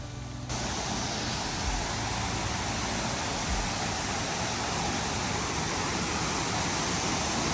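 Russell Falls, a three-tiered waterfall on a forest stream, pouring as a dense, steady broadband rush that begins abruptly and holds constant, moderately close with no voices.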